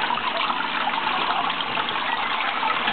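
Water rushing through a homemade float valve on a maple syrup setup at roughly 80 to 90 gallons per hour, a steady, close hissing gush with no pauses, heard alone.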